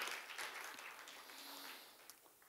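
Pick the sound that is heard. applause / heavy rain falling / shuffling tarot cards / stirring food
applause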